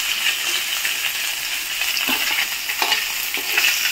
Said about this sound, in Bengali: দেখো মাছগুলো উল্টে পাল্টে আমি হালকা লাল করে ভেজে নিয়েছি